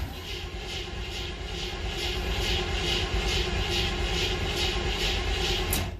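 A Chevrolet Monte Carlo engine cranks over on a cold start, the starter churning in a steady rapid rhythm, loud and close, for several seconds before stopping.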